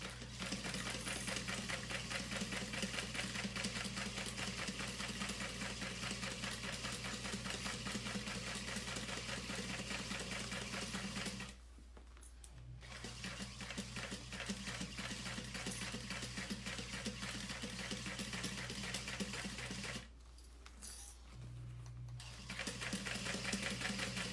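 Sewing machine stitching slowly along the outer edge of a vinyl saddle bag, a steady continuous motor whir with rapid needle chatter, stopping briefly twice before resuming, close and alone.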